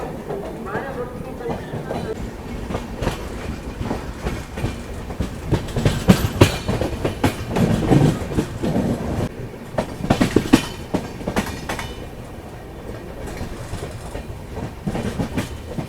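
The Bilaspur Rajdhani Express runs on past Gwalior Junction toward New Delhi, its wheels beating a steady clickety-clack under a continuous rumble, with sharper rail clatters building and fading along the way.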